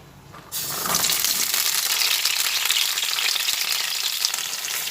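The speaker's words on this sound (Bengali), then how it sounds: "তেলের মধ্যে শিম দিয়ে শিমটা এবার ভেজে নিচ্ছি" Flat beans dropped into hot oil in a pan, a quiet start giving way to a sudden loud, continuous crackling sizzle that holds steady up close.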